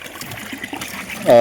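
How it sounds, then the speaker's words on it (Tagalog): Water pours into a plastic container of roughly two to three gallons on a squash farm in a rice field, a soft trickle that swells into a loud, full gush at the end. "Pupunuin ko to ng tubig."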